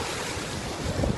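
Strong floodwater rushing through Jeddah, Saudi Arabia, a dense, continuous roar of churning water and wind buffeting close to the microphone, steady and loud throughout the short moment.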